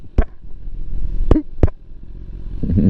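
A BMW S1000RR superbike idling in cold weather at a car wash, its exhaust letting out three sharp, loud pops over a low rumbling engine, with a rising idle at the end.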